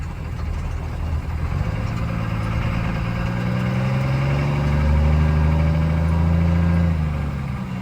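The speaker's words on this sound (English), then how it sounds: "this is just little light throttle action" A race car engine held at light throttle, a steady low rumble with a gentle swell in revs toward the middle before settling again, close and continuous without speech.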